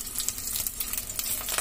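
Mint and coriander leaves are stirred into a hot frying pan for a Hyderabadi prawn dum biryani, giving a bright continuous sizzle with quick rustling stirs close by and no speech.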